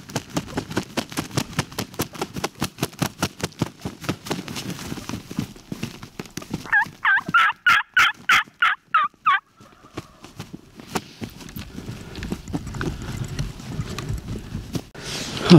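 Wild turkeys in Montana in spring gobble in a quick rattling burst partway through, loud and close, between long stretches of steady rhythmic thumping.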